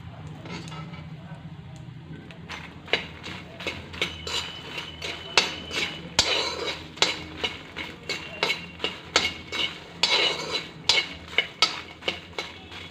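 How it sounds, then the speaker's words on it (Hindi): Fox nuts (makhana) stirred while frying in ghee in a pan, giving a steady run of close metallic scraping and clinking strokes over a low background hum. "हमने जो मखान लिए हैं उसे हम इसमें फ्राई कर लेंगे और इसे लगातार चलाते रहिए"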